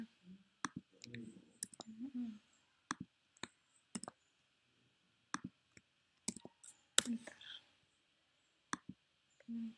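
Sharp, close computer mouse clicks, some in quick pairs, scattered irregularly across a quiet room during spreadsheet work, with brief soft murmuring in between.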